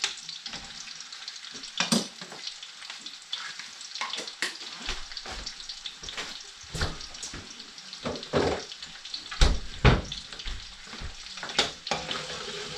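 Star margarine melting and being stirred in a cooking pan for a Tagalog kalderata, with a steady sizzle and irregular scraping stir strokes, close and moderately loud with no talking.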